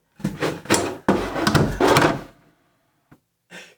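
A wooden drawer glides shut on soft-close slides, with a few sliding rumbles followed by a gentle damped stop and a faint click, close by with no talk.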